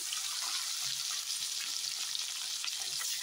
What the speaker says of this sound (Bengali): আমি প্রথমে এই পিসগুলোই ভেজে নেব, একে একে পিসগুলো দিয়ে দিলাম